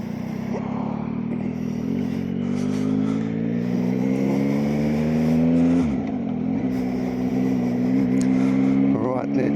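Motorcycle cruising on a clear winter day on the New South Wales Central Coast, captured from inside the rider's helmet: a continuous engine drone whose pitch slowly climbs and dips with throttle, under constant wind rush.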